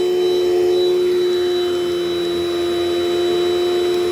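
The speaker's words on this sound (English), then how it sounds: "I like how this vacuum cleans up a lot of the dirt that most will never get" A Dirt Devil Dynamite Plus vacuum cleaner runs steadily and loudly, a constant motor whine with a strong sustained tone and airy hiss, no pauses or voices.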